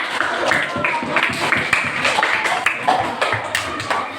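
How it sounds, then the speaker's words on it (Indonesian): A classroom of students applauds a classmate who has answered correctly, with brisk, irregular clapping that holds steady for several seconds at moderate loudness. "tepuk tangan untuk Nabila."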